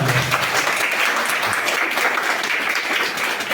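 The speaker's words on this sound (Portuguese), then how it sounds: "Um salve de palmas!" An audience claps warmly at an outdoor mass at the chapel of Santo Antônio in rural Sítio Cachoeira Grande, Tabira, a dense, steady burst of applause filling the whole stretch at close range.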